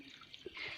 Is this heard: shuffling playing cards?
no